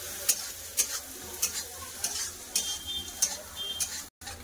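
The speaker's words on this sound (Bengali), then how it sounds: "দিয়ে দেবো একটু লবণ, হলুদ গুঁড়ো আর ভালো করে পেঁয়াজ ভেজে নেবো।" Onions sautéing with salt and turmeric powder in a pan, a steady soft sizzle broken by regular scraping stirs of a spatula, no voices.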